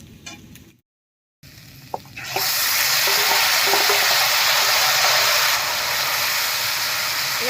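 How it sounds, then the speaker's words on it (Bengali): Cooked vegetables go into a pan of fried onion and garlic tempering, starting with light clatter and then swelling into a loud, continuous close sizzle that holds steady to the end. "ফোড়নটা ভাজা হয়ে গেছে, এবারে নামিয়ে রাখা সবজিটা দেব।"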